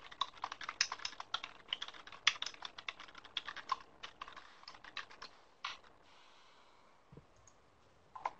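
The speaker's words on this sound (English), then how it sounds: "It looks like we have one more person typing." Typing on a computer keyboard during an online meeting, with rapid bursts of clicking keystrokes in uneven runs, then sparser taps and a pause before a final few keys, fairly close and alone.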